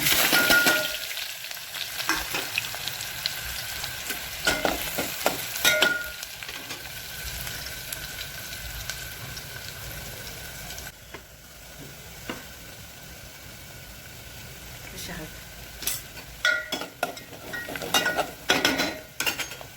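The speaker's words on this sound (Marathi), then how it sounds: "वाटून घेतला कांदा फोडणीला द्यायचा आता जिरी मोहरी मोहरी टाकली थोडीशी जिरी टाकली आणि कांदा" Chopped onion fries in a tempering of mustard seeds, cumin and curry leaves for misal pav, crackling and sizzling close by with intermittent scraping and stirring clinks of a utensil against the pan, no voices.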